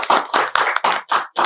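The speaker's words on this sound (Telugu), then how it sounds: "Give him a big applause." Several loud, close claps land in a slow, even rhythm of about five beats in a second and a half, from a studio audience applauding a young anchor.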